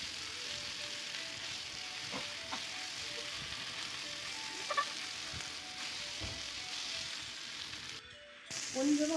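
Cut idli pieces stir-frying in a pan with tomato and Aachi 65 masala, giving a steady hissing sizzle throughout, broken by a few soft stirring scrapes and a short dip near the end.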